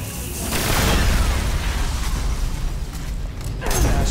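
Game sound from Destiny as a fusion rifle destroys an object: a sustained, loud booming roar with mechanical creaks and bursts running throughout, no talk over it.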